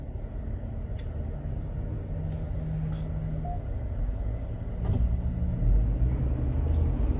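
Jeep Wrangler cabin while driving, with a steady low road and engine rumble that swells slightly toward the end, with faint creaks and ticks over it and no talking.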